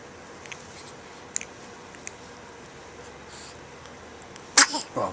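A three-week-old baby lets out a single short, close sneeze near the end, after a stretch of quiet room tone broken by a few faint clicks and rustles.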